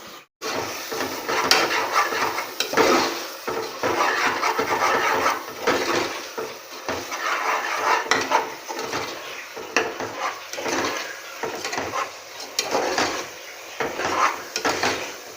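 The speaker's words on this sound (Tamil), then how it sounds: "நல்லா அதை வந்து போட்டு அந்த பச்சை வாசனை போகிற வரைக்கும் நம்ம கிளறிடலாம்." Ground tomatoes are stirred in a pan for chicken biryani, with repeated close scraping and clinking strokes against the metal in an uneven rhythm.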